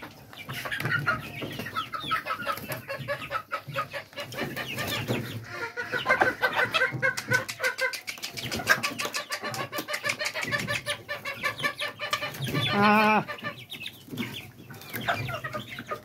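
Backyard chickens kept for eggs and meat on a small farm cluck continuously and fairly close, with several birds overlapping in busy, uneven bursts and a louder squawking flurry near the end.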